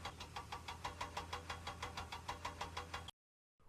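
A boat engine chugs into port with a steady, fast rhythmic knocking, loud and close, then cuts off abruptly near the end.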